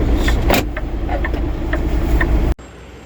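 A car rolls into a car workshop with a loud, close engine rumble and tyre noise, then the sound cuts off abruptly near the end, leaving a quieter background.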